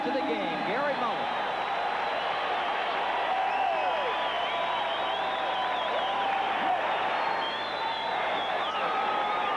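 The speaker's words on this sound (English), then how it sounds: "the Denver fans applauding his efforts" Denver Dynamite fans at a 1987 Arena Football game give a steady, distant stadium applause and crowd roar, sustained under an announcer's continuous play-by-play commentary.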